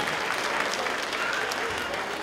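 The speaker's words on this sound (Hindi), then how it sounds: "गूंजती हो तालियों के साथ" Audience at a Ram Leela show at a Hindu temple in Edmonton, Alberta applauding, dense continuous clapping from a crowd throughout, fairly loud and close.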